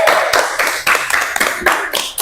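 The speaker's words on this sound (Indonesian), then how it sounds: "tepuk tangan untuk kelompok 4" Children clap for a classmates' group in a classroom, a loud, dense burst of rhythmic hand claps pulsing in quick groups.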